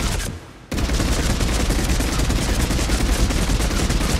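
Mattock assault rifle fired in Mass Effect 3, a dense, loud, continuous burst of rapid shots that starts abruptly after a brief quieter lull and keeps hammering without pause.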